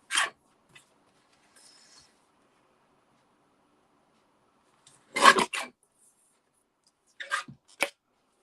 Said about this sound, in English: I just need to trim a little bit off that because it's a bit too wide.